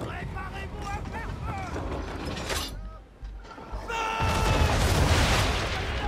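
Powder barrels exploding in the Assassin's Creed 3 video game during a naval battle, a dense, continuous roar of blasts and cannon-like booms with mechanical clatter, loud throughout and building to a heavy rumbling burst near the end.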